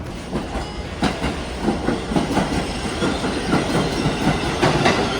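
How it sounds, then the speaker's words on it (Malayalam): A New York subway train arrives with a steady, loud rumble and rhythmic clickety-clack of wheels over rail joints, underlaid by a faint hiss and no voices. "നമുക്ക് പോകണ്ട ട്രെയിൻ വന്നു."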